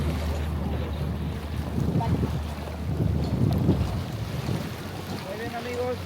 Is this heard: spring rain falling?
no